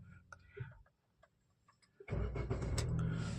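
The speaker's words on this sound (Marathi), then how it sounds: "गाडी चालू झालेली आहे आपली क्लच दाबल्यानंतर" A manual car's engine starts with a sudden loud crank and catch, then settles into a steady close rumbling idle. Before it there are a few quiet clicks and a brief voice.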